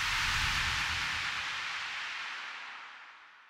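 Bright, thin hiss of high-passed analog white noise from the Vital software synthesizer, steady and fairly loud, with a little low rumble early on, tapering off toward the end.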